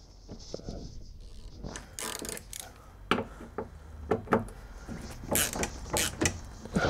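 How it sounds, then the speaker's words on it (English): Screws on a Ford Mondeo window regulator are loosened with a Torx driver, giving irregular close clicks, creaks and small metallic rattles, some spaced out and others in quick clusters. "loosen each of the screws."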